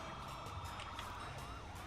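A fire engine siren in GTA 5 sweeps up and down over a steady low rumble of traffic, moderately loud and continuous throughout.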